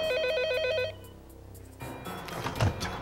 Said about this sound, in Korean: 그때 또다시 전화벨이 울렸다.